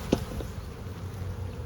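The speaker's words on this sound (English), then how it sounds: "Lots of bees" Honey bees at a hive hum in a soft, steady drone close by, with a brief louder buzz as one passes near.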